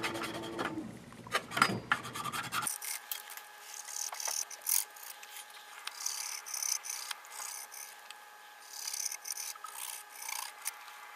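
Q-tips soaked in alcohol scrubbing NES connector pins, quick dry rasping and rubbing strokes up close; a louder scratchy burst at first, then softer steady scrubbing over a faint background hum.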